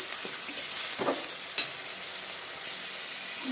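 Onion paste and ginger paste sizzle and fry in a pan, with a soft, steady hiss and a few scraping stirs close by.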